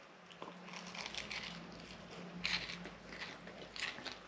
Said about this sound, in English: Oh, can you hear the crunch on that?